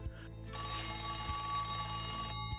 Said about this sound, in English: Ethan is looking at some drawings until he gets a strange phone call from a voice suggesting to be his dead brother Thomas